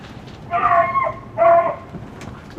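Beagles out in a garden after finding a mole give two drawn-out, whiny barks or yelps at moderate distance, clear over a quiet background.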